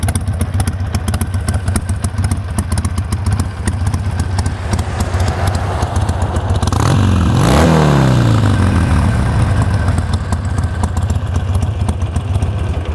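A carbureted Harley-Davidson Sportster 1200 Low idles with a loping, uneven rhythm throughout, close and steady, with a brief rising-and-falling rev swell in the middle.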